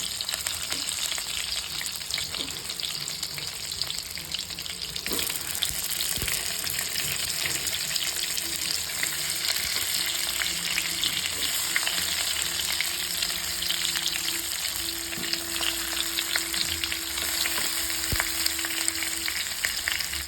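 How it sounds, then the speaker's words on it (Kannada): Stuffed brinjals frying in oil with cumin and curry leaves in a pan, a loud, steady hissing sizzle lasting throughout, with occasional light spatula clicks. "ಬದನೆಕಾಯಿ ಸ್ವಲ್ಪ ಫ್ರೈ ಮಾಡ್ತಾ ಇದ್ದೀನಿ ಇವಾಗ ನಾನು ಇದರಲ್ಲೇ"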